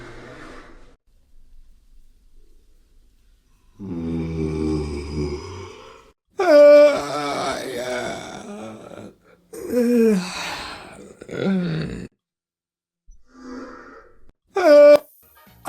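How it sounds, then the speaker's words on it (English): Several long, breathy yawns in a row, each a drawn-out voiced exhale rising and fading, separated by short pauses, close and fairly loud. "For our first scene, we need the sound of yawning."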